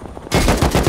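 Rapid automatic gunfire from a clan raid video game, a sudden loud burst of repeated shots that starts abruptly and continues in quick, close bursts, with no talk over it.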